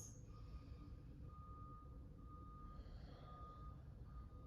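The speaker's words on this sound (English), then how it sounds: "Sorry for the moving truck sounds outside, guys." A moving truck reverses outside. Its backup alarm sends out evenly spaced, steady beeps that sound faint and distant over a low engine hum.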